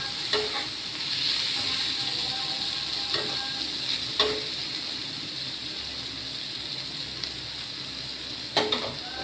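Spices frying in a pan with green chillies: a steady close hissing sizzle throughout, punctuated by several sharp spoon scrapes and clicks against the pan, no talk.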